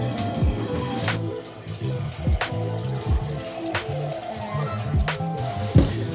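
Tap water runs into a container in a kitchen to refill it while cleaning walleye, a steady splashing flow with periodic gurgling sweeps and low churning as it fills, close and fairly loud.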